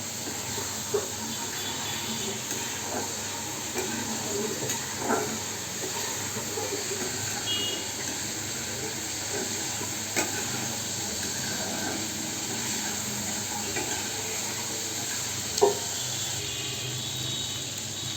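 Onions fry in a pan and are stirred, a steady, even sizzling hiss throughout with a few faint scraping ticks now and then.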